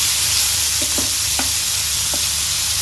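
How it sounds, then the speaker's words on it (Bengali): Marinated prawns fry in hot tempering oil, a loud, close, unbroken sizzle with a few brief scrapes of stirring and no voices. "মেখে এখন ফোড়নের তেলের সাথেই আমি মাছগুলোকে একটু ভেজে নেব।"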